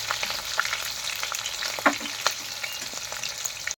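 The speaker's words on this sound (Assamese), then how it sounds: "পিঁয়াজ জলকীয়া এতিয়া ভাজি আছোঁ।" Sliced onion and green chillies fry in a hot pan, giving a steady crackling sizzle with scattered pops and stirring scrapes, close and alone with no talk.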